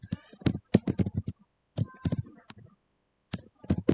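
Fast, uneven clacking of a computer keyboard as random text is typed, bursts of close key taps with short pauses between them, no voices.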